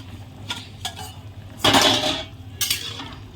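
A metal lid clatters off a cooking pot where elephant foot yam and bay leaves have simmered covered for fifteen to twenty minutes, giving a loud clanking scrape after a few small clinks, with a final knock as it is set down.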